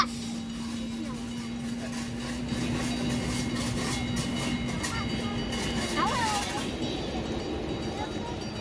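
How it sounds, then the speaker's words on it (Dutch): A small model train runs along its track at a model railway event at Stoomgroep West, a continuous near rumble and clatter with a steady hum, as someone speaks briefly over it. "Heel klein treintje."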